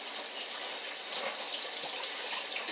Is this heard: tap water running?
yes